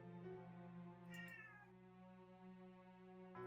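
A cat meows several times in close succession, clear and nearby, with a drawn-out wavering call in the middle and a short one at the end, no talking.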